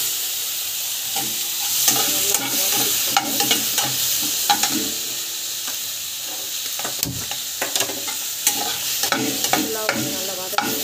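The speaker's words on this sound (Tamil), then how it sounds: "நல்லா வதக்கி" Chutney ingredients sautéing in a pan, a steady broadband sizzle under repeated scraping stirs and clinks of a spatula against metal, close and fairly loud throughout with no talk.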